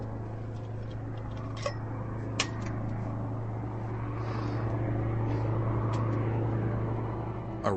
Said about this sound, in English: And then I heard this plane.